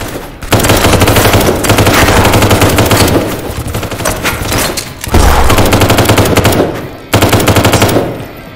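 A dragon's breath shotgun firing in a video game, loud, fast repeated blasts in three long dense bursts separated by brief gaps.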